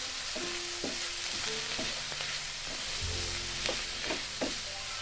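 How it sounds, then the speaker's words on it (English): Chicken and vegetables sauté in a pan with soya sauce and chili sauce over medium heat, a steady sizzle broken by repeated scraping, stirring strokes; close and alone, with the frying growing fuller near the end. "We are just sauteing these over medium heat until everybody is nice, warm and happy."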